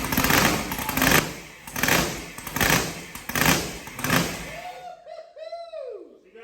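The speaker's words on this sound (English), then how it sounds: "You ready to fire this thing up, dude?" A freshly installed supercharged engine with a blower cam, not yet tuned, fires up and runs with a loud lumpy idle, its pulses surging roughly every second. It cuts off near the end, leaving a faint high whine.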